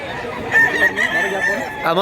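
A rooster's crow rings out loud and close for about a second and a half, in a farm setting where a two-year-old fighting cock is being shown, with a further short call breaking off at the end.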